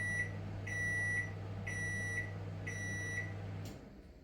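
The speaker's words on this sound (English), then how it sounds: "I'll bring you back when this beeps." A microwave oven beeps four times at an even pace as the heating of beef and broccoli noodles finishes, then its low running hum cuts off with a click.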